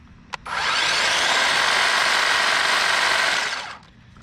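A Ryobi 22-inch brushless hedge trimmer starts after a sharp click and runs at a steady, loud, high-pitched whir for about three seconds before winding down, heard up close with no talking.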